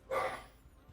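A single quick dog bark in Snowrunner, close and clear, fading into a quiet rumble.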